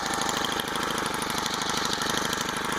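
A GX25 engine on a motorized bicycle running close by, a steady buzzing putter with a fast, even pulse that holds at one speed throughout.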